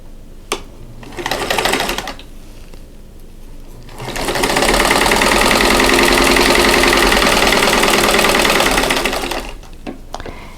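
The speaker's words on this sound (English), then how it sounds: "I'm going to sew right on that drawn line." A sewing machine stitches along a drawn diagonal line on a quilt block. A short burst comes first, then a long, loud, steady run before it stops.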